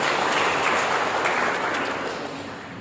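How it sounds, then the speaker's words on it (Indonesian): A church congregation of around thirty people applauds during a sermon, a full burst of clapping that starts loud and slowly tapers off. "berikan tepuk tangan dulu buat Tuhan Yesus."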